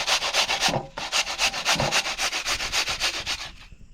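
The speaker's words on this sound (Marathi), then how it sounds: "अशा किसणीवर किसलात ना की पाणी पण चांगलं पडतं" Cucumber with its peel still on being grated on a hand grater, rapid rhythmic rasping strokes in quick even succession, close and loud, with no talking.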